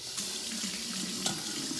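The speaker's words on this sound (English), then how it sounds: "Now make sure we wash our hands" Water runs steadily from a kitchen tap into a sink for handwashing, a continuous close hiss without voices.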